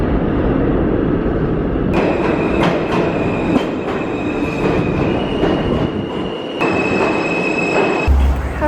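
A New York City subway train rumbles loudly along the tracks, with a steady metallic roar, squealing wheels, sharp clacks over rail joints and high whining tones from the cars.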